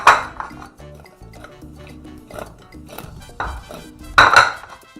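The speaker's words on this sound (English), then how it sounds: "And then we'll stir it up a little bit." Pork chop marinade being stirred in a bowl, with clinks and scrapes of a utensil against the dish in short irregular bursts, close and fairly loud.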